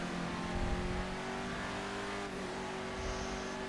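An old car accelerating toward its top speed, the engine droning in a steady sustained roar heard from inside the cabin, no one speaking.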